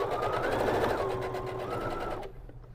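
A sewing machine back stitching at the start of a seam on a tote bag runs loud and steady with a whirring hum, then slows and stops near the end.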